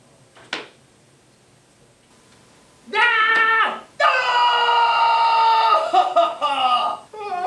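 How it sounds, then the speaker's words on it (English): A screaming sound effect: a loud, sustained, wavering shriek follows a brief sharp click and a short scream, then breaks into choppier cries, close and dominant. "Just listening to some blood-curdling screams."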